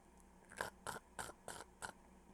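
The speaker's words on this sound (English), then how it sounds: "let him do a little chew on the thumbtack" Five crisp, evenly spaced crunching bites as a cat chews on a thumbtack, close and quiet, each a short gritty chew with near silence between them.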